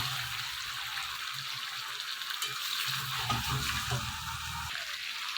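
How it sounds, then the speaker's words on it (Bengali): Chicken curry sizzles and fries in oil in a home kitchen pan while being stirred, a steady crackling hiss with soft scraping movements throughout and no voices. "তেল ছেড়ে দিয়েছে, মানে এটা কষে গেছে। তাই চিকেনটা আরেকটু নাড়িয়ে নেব"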